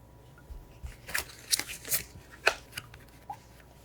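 Tarot cards being handled, shuffled and laid face up on a table during a reading; a run of soft papery snaps and slides, close and quiet, spaced irregularly with no talking.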